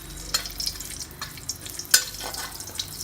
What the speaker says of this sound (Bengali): আমি গোটা গরম মশলা ফোড়ন দিচ্ছি